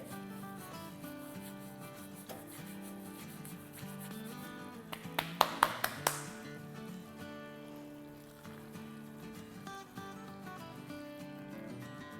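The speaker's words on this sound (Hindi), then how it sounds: "इसमें डालेंगे आधा टेबलस्पून कसूरी मेथी। इसको थोड़ा हाथों से मसल लेंगे।" Dried fenugreek leaves, kasuri methi, crushed between the hands over a karahi of baby bella mushrooms, a soft dry rustling rub with a short burst of crisp crackles midway, faint under quiet background music.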